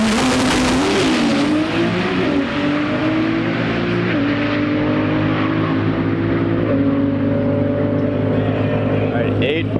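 A Nissan GT-R and other cars launch in drag races at TX2K21. Engines roar loudly and steadily for about ten seconds, with revs climbing and dropping through shifts.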